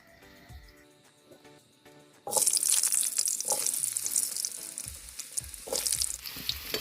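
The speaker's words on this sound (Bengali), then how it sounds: "তেলটা গরম হয়ে গেছে, এবার আমি এই আলুগুলোকে দিয়ে দেবো।" Potatoes go into hot oil in a wok: a quiet start with faint clatter, then a sudden loud burst of crackling sizzle that keeps bubbling and spitting close by until the end.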